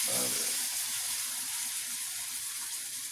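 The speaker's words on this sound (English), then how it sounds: "I'm gonna put a little water in mine" Water splashes into a hot pan of shrimp fried rice, setting off a loud broadband sizzle and hiss that slowly settles into a steady simmering rush.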